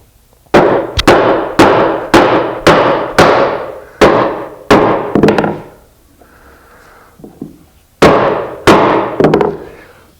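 Series of sharp, loud hammer taps on a clamped wooden workpiece on a flat table, struck in a steady rhythm of about a dozen blows with a short pause mid-way, close and clear with no talking.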